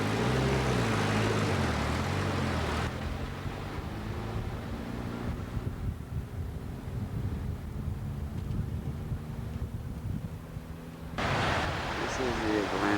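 Wind buffets the microphone on an Atlantic Ocean shore at Gorée Island, with broad rushing surf noise that is loud at the start and end and dips in the middle while a voice talks.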